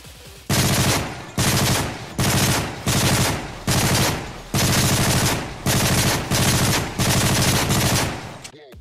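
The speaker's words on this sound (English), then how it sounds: "Yes, this is the Vector CRB uh, from Call of Duty Ghost." Vector CRB submachine gun firing in Call of Duty: Ghosts, loud close bursts of rapid automatic fire, about ten separate bursts with short gaps between them.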